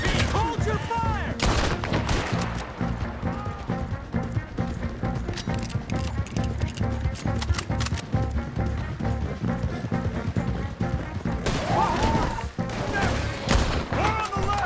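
Gunfire in the Western video game Red Dead Redemption 2: dense volleys of rifle and pistol shots crack out continuously amid horse hooves and shouted voices, with heavier bursts near the start and end.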